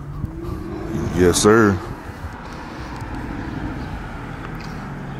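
A ZL1 car pulling up gives a steady, low engine rumble that runs through the whole stretch, with a brief spoken reply partway in.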